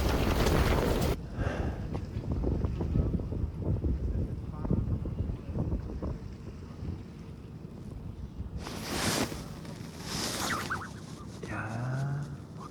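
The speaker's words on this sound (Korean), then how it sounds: "와, 막 물이 막 넘쳐 흘러요, 막 바람 때문에." Strong wind gusts over a fishing pond at a crucian carp fishing ground, water sloshing and spilling over, a heavy roaring rumble close to the microphone with bursts of gusting, while people talk underneath.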